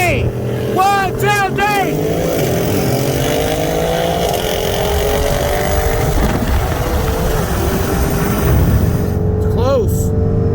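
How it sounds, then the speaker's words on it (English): Two cars, a 2021 Mercedes GT63 S AMG with bolt-ons and a 2018 Audi RS7 with exhaust, race from a 40 mph roll; loud sustained engine roar with rising gear sweeps and shifts throughout, a voice heard over it. "the first race we're going to do is from 40 miles an hour"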